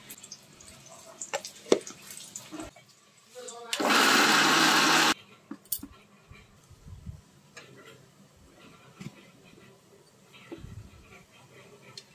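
A mixer grinds moringa leaves into paste in one loud, steady whir lasting just over a second, set among quiet clicks and handling taps in a kitchen, with brief speech around it.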